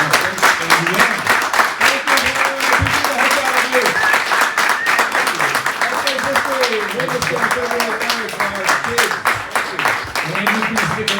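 Audience applause at an Andrew Yang town hall in Panora, Iowa, a dense sustained clatter of many hands clapping in a room, with voices and cheers mixed in.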